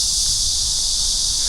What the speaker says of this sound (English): Listen to how loud them cicadas are.